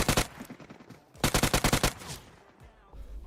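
Bursts of automatic gunfire from the mobile battle royale game PUBG Mobile, a short burst then a rapid string of about eight loud shots, followed by quieter scattered fire.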